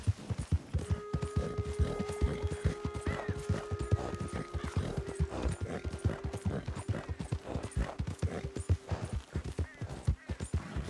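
Horse hooves clip-clop steadily in the video game Red Dead Redemption 2, a quick rhythmic trot of many even beats heard close and fairly faint, with a brief whinny near the start and no talking.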